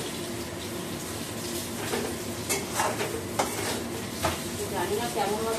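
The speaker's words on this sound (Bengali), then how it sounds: "চাউমিন দিয়ে দিয়েছি কড়াতে।" Chowmein fries in a kadai, a steady sizzle broken by scraping stirs and light clinks of a utensil against the pan, fairly close and moderately loud.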